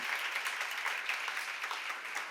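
A church congregation applauds during a sermon on Romans, a steady, even crackle of many hands clapping, moderately distant and sustained without a break.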